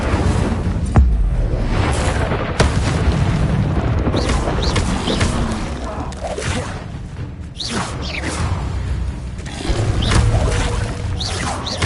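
Fire spell blasts in Hogwarts Legacy, a dense stream of booming whooshes and crackling bursts that stays loud throughout, with sharp impacts near one and two and a half seconds and a fresh surge near ten seconds.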